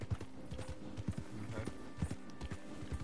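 In Red Dead Redemption 2, horses' hooves clop in an uneven walking rhythm, moderately close, over a continuous low background drone with faint ambient game sounds.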